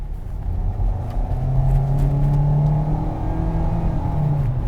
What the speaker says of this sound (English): It's the raw power of the 2-liter 4-cylinder engine.